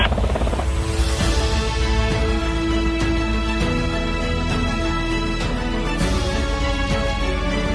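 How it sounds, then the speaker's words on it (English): An autonomous helicopter rising to a stabilized hover, a steady, loud engine drone with strong tonal harmonics and rhythmic blade thumps recurring about every second. "You're going to see the aircraft come up to a stabilized hover"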